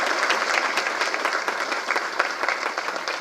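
An audience at a film audio and trailer launch ceremony claps for Sadiq, producing brisk, dense applause with sharp individual claps standing out, continuing evenly without speech.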